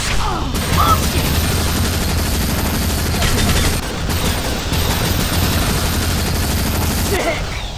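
Heavy, dense gunfire rattles almost without pause during a Warfare match on the Islander Necris map in Unreal Tournament 3, loud and close, with a brief gap partway through.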